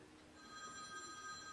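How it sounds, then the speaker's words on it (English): A telephone rings in a home during a quiet conversation, its tone steady and moderately faint across the short moment with no talk over it. "There's our telephone."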